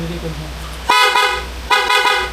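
Two loud, close car horn blasts on a road in Bicol, Philippines, each a brief honk, separated by a short pause, following faint background voices.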